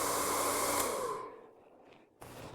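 A blow dryer with a concentrator tip drying hair over a large round natural boar bristle brush, a loud steady whoosh that fades out, then a short burst of airflow returns at the end.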